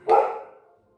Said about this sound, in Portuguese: Desculpe o cachorrinho aí.